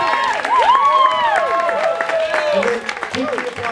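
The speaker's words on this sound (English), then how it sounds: "And then, keeping the applause going, up next we'll hear from Samaria's maid of honor, Jina." Wedding reception guests applaud and cheer after a toast, with sweeping whistles and shouts rising over steady clapping and crowd voices throughout.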